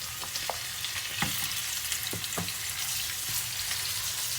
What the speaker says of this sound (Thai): จะพัดกระเทียมกับรากผักชี จะเอาหมูสับลงผัดจ้า หมูสับลงไปผัด